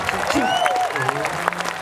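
Audience applause fills a Balinese comedy show at the Taman Budaya Art Centre, a steady patter of clapping running under a voice throughout.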